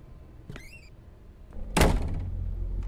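A door slams shut in the horror video game MADiSON, a sudden loud heavy thud with a rattling tail, preceded by a faint creak and a soft knock in a quiet, tense room.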